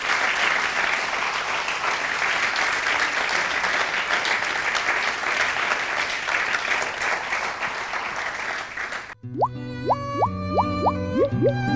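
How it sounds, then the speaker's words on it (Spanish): An audience at a talk on decarbonisation and green hydrogen gives the two speakers loud, sustained applause for about nine seconds, then it stops abruptly and a bright plucked melodic jingle follows. "Yo creo que les vamos a dar un fuerte aplauso por el tiempo que nos han dedicado."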